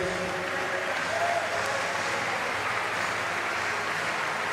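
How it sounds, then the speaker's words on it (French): An audience at a Cesta Punta Grand Slam final in Saint-Jean applauds the tournament director, a steady, broad wash of clapping that holds evenly throughout. "J'aimerais vous présenter le directeur du tournoi, monsieur Frédéric Cadet, que l'on peut applaudir, s'il vous plaît."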